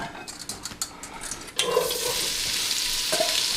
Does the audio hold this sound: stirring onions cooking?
yes